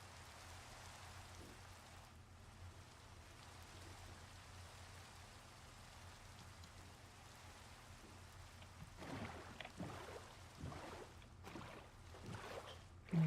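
Rain falls steadily in Minecraft, a soft continuous hiss with a low rumble underneath, followed by a few louder crackling bursts near the end, with no voices.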